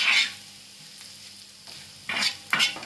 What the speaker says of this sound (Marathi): आता आपण याच्यामध्ये वाटलेला हा ठेचा टाकायचा. तो पण चांगला परतून घ्यायचा याच्यात.